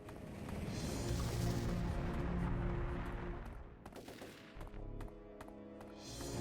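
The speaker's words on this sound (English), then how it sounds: "Are you shooting at me?" Gunfire in the video game Turok 3: Shadow of Oblivion, a dense continuous fusillade of rapid shots that thins into separate sharp cracks, loud and alone with no talk.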